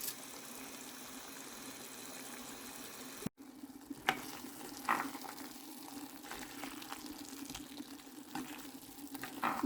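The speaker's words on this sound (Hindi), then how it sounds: "आलूओं को 5-6 मिनट तक पानी का छींटा लगाकर भूनना है।" Potatoes frying in a pan with a splash of water, making a faint, steady sizzle with a short break and then scattered louder crackles and stirring scrapes, and no talking.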